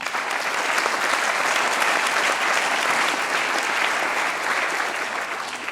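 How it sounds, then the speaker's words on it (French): Steady, dense applause from a large audience at an evening gala celebrating an organisation's twentieth anniversary, sustained at full strength throughout without a break. "Merci Xavier Dulin, sous vos applaudissements"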